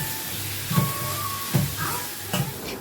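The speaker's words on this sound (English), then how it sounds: "Once the tomatoes are mushy and the masalas are cooked, I'll add some curry leaves at this stage." Curry leaves sizzle in a cooked tomato masala, a steady close frying hiss broken by three low stirring scrapes or thumps spaced under a second apart, with faint crackles over the sizzle.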